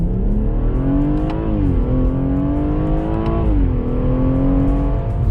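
BMW M140i pulling hard in first gear from a standstill, engine revving loudly up and then easing, with steady powerful drone from inside the car and no talking.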